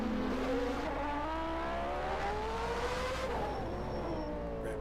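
A Tyrrell Honda 020 Formula One car, running the Honda engine McLaren used in 1990, races in a 1991 Australian Grand Prix. Its loud high-pitched engine note climbs and drops through gear changes, steady and close.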